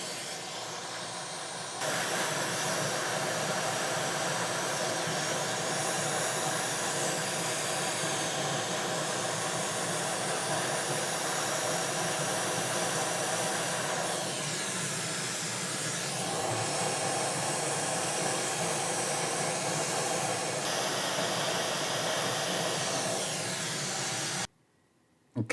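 Heat gun with its nozzle fitted blowing hot air over a PS5 motherboard near the USB ports, a steady loud broadband whoosh running continuously for most of the stretch before cutting off abruptly.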